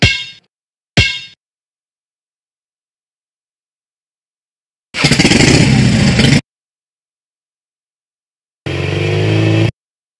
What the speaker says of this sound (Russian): Это грейдер.